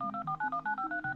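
A rapid run of about a dozen telephone keypad dialing tones as a PBX line is dialed to place pay-per-minute calls, each tone short, clean and evenly spaced, loud and close with no voices.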